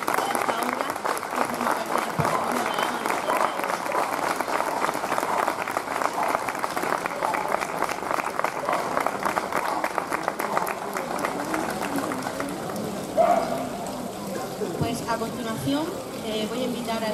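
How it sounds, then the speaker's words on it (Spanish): A crowd at the unveiling of new fountain sculptures applauds outdoors with sustained, fairly soft clapping for over ten seconds, thinning out toward the end, as a few voices murmur underneath. "Un aplauso."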